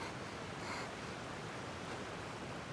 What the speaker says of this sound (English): these waterfalls are so fucking loud